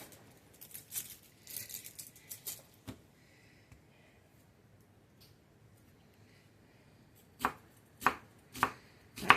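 Onions are chopped on a cutting board, a knife striking in sparse taps, then a pause, then a quick run of sharp close chops near the end, with no talking.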